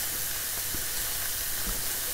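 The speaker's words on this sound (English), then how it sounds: "So while that is just kind of frying off" Crispy bacon sizzles steadily in a wide pan over full heat, a close, constant frying hiss with small pops and no talking.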